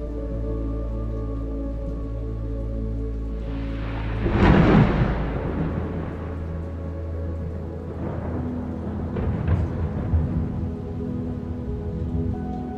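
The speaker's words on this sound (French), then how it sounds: "Le tonnerre résonne à travers les cieux et dans votre âme" Rolling thunder swells in a deep rumbling burst and lingers, then returns in fainter rolls, all over a steady bed of rain falling on surfaces.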